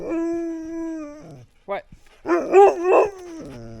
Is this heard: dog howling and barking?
yes